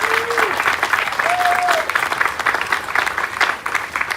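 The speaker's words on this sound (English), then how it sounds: "Let's give one more round of applause" Continued crowd applause at a public reading of the Declaration of Independence, dense steady clapping with a couple of short whistles cutting through, under a faint voice.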